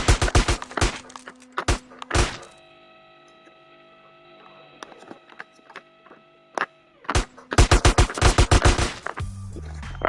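Dual pistols fire in GTA San Andreas Definitive Edition: quick loud clusters of crisp shots, a lull with mechanical clicks and tones, then another rapid volley of snapping pistol shots.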